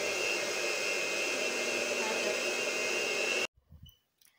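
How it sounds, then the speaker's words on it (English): An electric mixer whisks vanilla cake batter with a loud, steady whirring drone, close and constant for over three seconds, then cuts off abruptly, leaving brief faint knocks. "From here, we are going to whisk our mixture."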